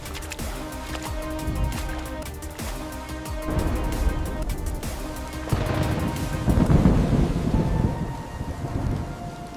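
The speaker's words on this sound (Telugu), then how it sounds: "ఊరుములు, మెరుపులు" A night thunderstorm rumbles with deep rolling thunder over steady rain, with heavier bursts building toward the end and no voices.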